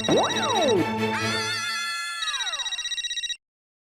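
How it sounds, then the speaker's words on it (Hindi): A phone ringtone plays loud and close: a sweeping electronic melody that settles into a sustained pulsing trill, then cuts off abruptly. "विजय का फोन आ रहा है"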